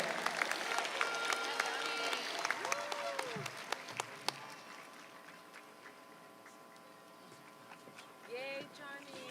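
Applause ripples through a crowd at a 2025 Montebello High School commencement ceremony, steady clapping and scattered cheers held at moderate distance, with an announcer's voice over the top early on.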